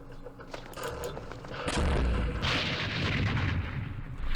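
Mortar fire in the Campaign Series Vietnam war game, Battle of Hue: a dense rumble of heavy booms that swells midway into a loud, sustained barrage with crackling blasts layered on top.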